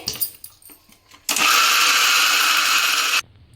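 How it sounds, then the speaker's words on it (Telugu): A kitchen mixer grinder whirs loud and steady for about two seconds while grinding corn batter, starting and stopping abruptly between quieter handling noises. "ఇప్పుడైతే మనం మిక్సీ పట్టుకుందాం ఫ్రెండ్ చూడండి"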